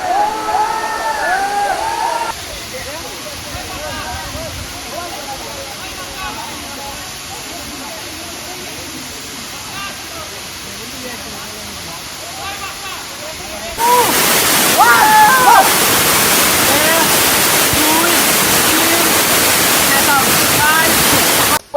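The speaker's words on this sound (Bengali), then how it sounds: "একদম নিচ থেকে ওপর পর্যন্ত কি সুন্দরভাবে ঝর্ণাটা পড়ছে" Ham Ham waterfall in Srimangal, Sylhet roars in a steady, dense wash of falling water, quieter at first, then suddenly much louder and closer for the final stretch.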